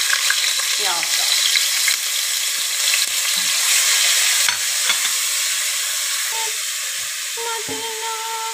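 Onions sizzle and fry in a pan for a homemade chicken pizza topping, a loud continuous hiss with occasional stirring clinks and scrapes.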